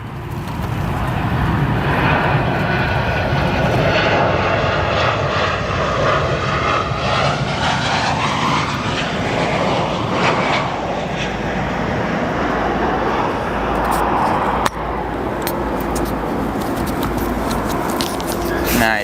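A United airliner arriving from Las Vegas touches down on runway 10 Center at O'Hare, its engine roar loud and continuous throughout, with a sharp transient near the end and faint voices underneath.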